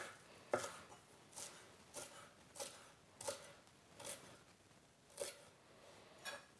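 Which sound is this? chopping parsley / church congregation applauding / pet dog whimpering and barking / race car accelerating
chopping parsley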